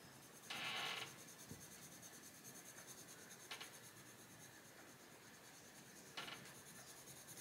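Castle Arts Gold cherry pink coloured pencil drawn across paper in short, faint scratchy bursts, with a louder stroke near the start and two quick light strokes later, alone in a quiet room.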